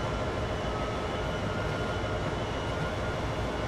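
A train runs in the railway game Train Sim World with a loud, steady, even rumble of wheels on track and motor noise throughout. There are no voices.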